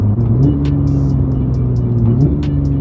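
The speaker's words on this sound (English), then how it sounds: "this car has a Fabspeed exhaust on it" A 2016 Porsche GT3 with a PDK transmission and Fabspeed exhaust, its engine droning loudly and steadily up close with a slight rise in pitch partway through, with no talking.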